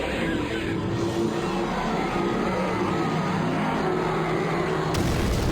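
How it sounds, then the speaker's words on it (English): An explosion in the video game Turok 3 roars as a loud, sustained, rumbling blast that fills the whole stretch, with a fresh burst near the end and no voices. "I love the explosion sound they chose."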